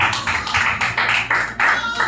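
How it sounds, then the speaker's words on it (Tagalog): Rhythmic clapping during a church worship gathering, a steady series of close, fairly loud beats in even time with a low hum underneath. "Palakpak ka itong Ginoo."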